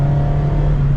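A 2024 Mazda MX-5 Miata RF Grand Touring's engine hums steadily from inside the cabin while driving, a close, sustained low drone with no voices.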